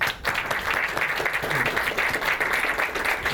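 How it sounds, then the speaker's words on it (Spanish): Audience applause for the panelists at a human rights book fair panel on biography, heard as steady, dense clapping from a room full of people that continues evenly throughout. "a quienes podemos dar un aplauso todos nosotros"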